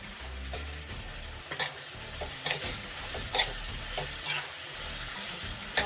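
Eggplant pieces sizzle steadily in a hot pan for Vangi Bath, a South Indian rice dish, with a spoon or spatula scraping and knocking against the metal at irregular moments, close and clear.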